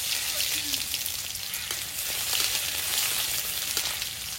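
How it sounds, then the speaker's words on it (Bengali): Three or four dried red chillies frying in oil in a wok, a continuous hissing sizzle with a rain-like patter, moderately quiet and unbroken throughout. "3-4টে শুকনো লঙ্কা তেলে ভেজে নেব"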